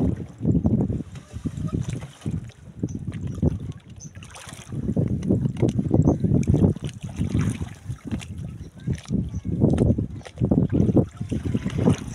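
A small boat on Laguna bay, with wind buffeting and water sounds rising and falling in surges, while people talk over it throughout.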